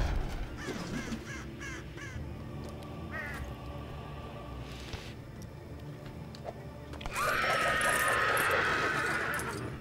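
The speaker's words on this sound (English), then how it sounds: "Fucking crows." Crows in the Lego Lord of the Rings video game give repeated harsh caws over a steady ambient game soundscape, with a louder burst of cawing near the end.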